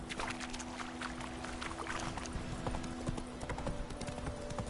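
A horse gallops in The Witcher video game, its hooves beating a continuous, fairly quiet clip-clop over a low background drone.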